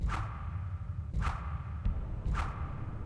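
Three quick whooshes of arrows being shot in the video game Gothic, evenly spaced, each a sharp swish followed by a brief tail, over a low rumble.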